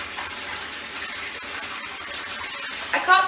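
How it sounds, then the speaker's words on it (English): Water gushes and splashes steadily while a bathroom is washed down, a soft continuous spray that swells briefly near the end. "I'm going to give it a quick wash down."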